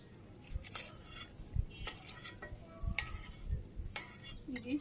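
Fried eggs being lifted one by one out of a sizzling pan in a village kitchen, soft scraping and clinks of a spatula over a low frying hiss, several brief knocks spaced apart.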